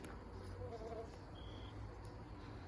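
Honey bees buzz steadily inside an overwintered nuc hive during a late-winter inspection, a continuous close-up drone that holds at an even level throughout with no talking.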